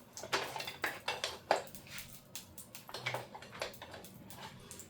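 Metal kitchen utensils clatter and clink as someone rummages for a spatula: a quick run of close, sharp jangles and knocks at moderate volume.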